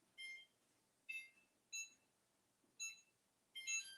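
An oven's electronic timer gives five short, faint high-pitched beeps at irregular intervals, the last one slightly longer, with no talking over them.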